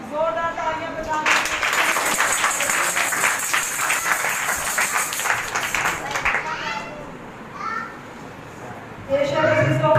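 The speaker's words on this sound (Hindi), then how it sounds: "जोरदार तालियां बजाएं" A congregation at a Sukkot Feast of Tabernacles service breaks into loud, sustained applause and clapping for about five seconds, filling the room, then fades to a murmur with a few voices before talk resumes.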